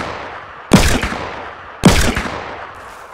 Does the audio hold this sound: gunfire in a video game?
yes